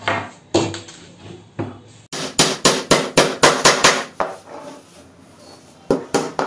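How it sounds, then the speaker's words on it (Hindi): Hammer driving 1.5-inch nails into a wooden folding diwan bed frame: a few scattered knocks, then a quick run of about a dozen loud, sharp blows, and a couple more at the end. "ये हम पहले एक एक कील मारेंगे, सेट कर लेंगे इसको।"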